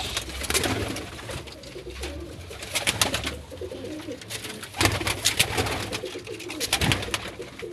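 Domestic pigeons, including racers and golden birds, cooing close by in a loft, with repeated soft throaty calls and rustling wings amid a background of flock chatter.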